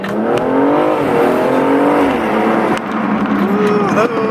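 A BMW M235i fitted with a performance intake accelerating hard from inside the car, its engine note rising steadily through the revs, dropping briefly at a gear change and climbing again, loud and close with a voice briefly audible.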